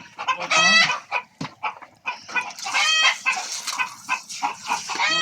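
Several chickens on a poultry farm cluck and squawk close by, a busy overlapping chorus with a rooster-like crow rising partway through.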